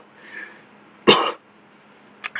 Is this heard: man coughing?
yes